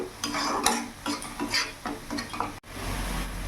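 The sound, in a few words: stirring ginger-garlic-chilli paste in a pan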